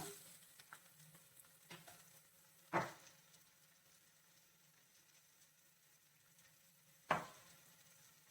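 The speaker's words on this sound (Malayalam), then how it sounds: "എല്ലാം കൂടെ മിക്സ് ചെയ്ത് ഒന്ന് വഴറ്റി വെക്കാം." Onions sautéing with a little salt in a pan for a chicken roast give a faint, steady low sizzle, broken by two sharper clatters of stirring about four seconds apart. No one speaks.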